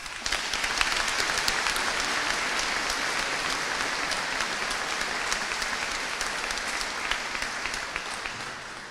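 Sustained applause fills a university graduation degree and award ceremony hall, a dense, even wash of many hands clapping at steady loudness before easing slightly at the close.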